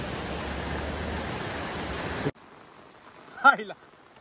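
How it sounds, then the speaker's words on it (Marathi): Heavy monsoon rain pours loud and steady as a broadband hiss over a flooded river beside paddy fields in a Konkan village, then cuts off abruptly into a quiet stretch with a short voice-like call. "पाऊस सकाळपासून पडतोय जोर जोरात"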